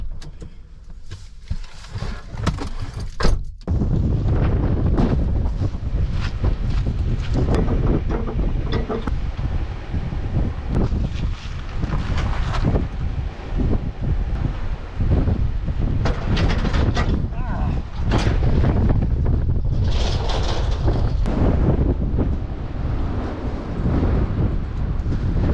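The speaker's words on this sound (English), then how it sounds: "It's really windy today." Strong wind buffeting a microphone beside a roadside where a trailer sits, a loud continuous roar with gusty rumbles and sharp bursts. A few muffled voices break through at times.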